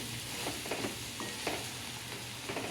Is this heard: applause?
no